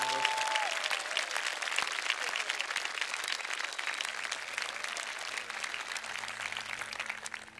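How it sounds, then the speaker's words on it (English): Sustained applause from a university audience for the faculty during a state-of-the-university address at Cedarville University, a continuous crackling spread of many hands clapping at a moderate distance, tapering slightly toward the end. "would you join me in applauding them"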